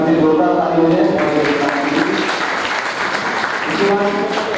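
Audience applause at a high school student presentation, a steady wash of clapping running loud throughout, with voices and cheering mixed in over it.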